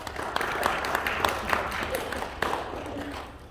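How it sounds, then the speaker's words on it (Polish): Audience applause at a first-grade school pledge ceremony, a steady crowd of mid-level clapping with some voices mixed in, fading slightly at the end. "duże brawa dla Pawełka."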